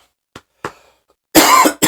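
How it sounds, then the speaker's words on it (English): One person gives a few short, dry coughs, two small ones followed by a heavier, louder burst and the start of another, close to the microphone in an otherwise quiet room. "Sorry, a bit of a cough."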